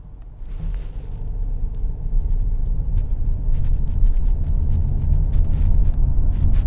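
A car drives along the Blackpool seafront, its interior filled with a steady low engine and road rumble that slowly builds, with faint ticking and rattling over the top and no talk.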